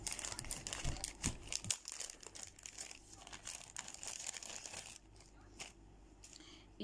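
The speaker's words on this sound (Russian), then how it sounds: "Пакетик был в пупырку." A plastic bubble-wrap bag crinkles and rustles up close in a steady run of crackly handling noise, then briefly quiets before a final rustle.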